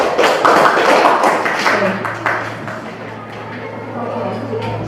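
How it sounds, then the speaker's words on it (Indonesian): A small indoor audience at a school teachers' session claps briefly, a loose cluster of hand claps that fades within a couple of seconds, leaving a low steady hum and faint talk. "tepuk tangan buat dia."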